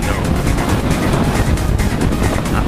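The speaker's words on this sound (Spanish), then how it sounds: "Acelerando con viento frontal," A Kawasaki Z900 motorcycle accelerates into a strong headwind on a highway, giving a steady, loud blend of engine roar and buffeting wind noise with no speech.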